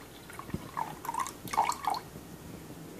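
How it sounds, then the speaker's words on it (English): Homemade kvass, a Russian fermented drink, is poured into a glass in a few short, quiet bursts of trickling and dripping liquid against a soft background. "we're going to pour a little bit in here and give her a taste."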